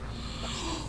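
A breathy, drawn-out exhale with a low rasp, heard up close for just under a second.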